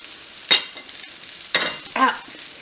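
Spinach, onion and portobello mushrooms fry in a pan with a steady hiss, while a few sharp stirring scrapes come close and clear, with no talking.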